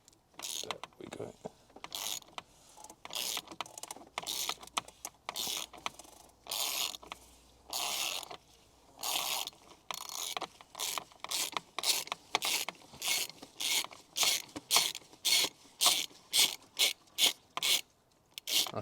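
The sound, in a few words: ratchet with 32mm socket working on Audi A6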